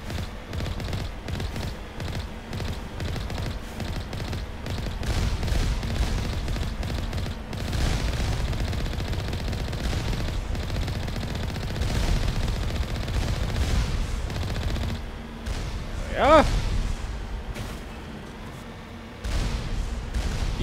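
Enemy turrets fire guns in Mass Effect 1 combat, with dense, continuous rattling bursts and booms throughout and a sharper burst near the end.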